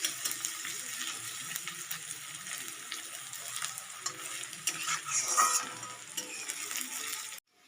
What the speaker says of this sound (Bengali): পেঁয়াজ রসুনটা বেশ ভালো মজে গেছে এর থেকে তেল ছেড়ে গেছে